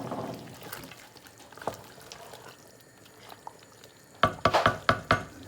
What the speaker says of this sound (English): we give this a quick stir to make sure it's not burning on the bottom.